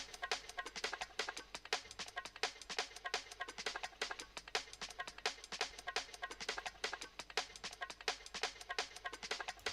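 Chopped drum break, high-pass filtered and drenched in reverb, rattling along as fast, busy breakbeat hits with thin, bright cymbal-heavy texture and no low end, quiet and continuous in a dubwise drum and bass section.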